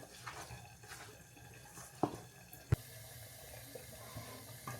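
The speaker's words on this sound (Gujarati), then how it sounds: "આમાં નાખ્યું પાણી ગરમ લોટને મિક્સ કરી દઈએ" Hot water poured into flour for puri dough, a faint continuous trickling pour throughout, with two sharp clinks partway through.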